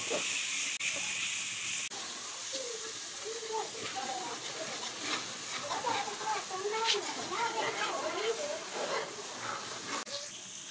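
Tomatoes and green chillies added to lightly browned onions cook in a pan with a steady soft hiss and sizzle, close and moderate in level, while a person talks over it.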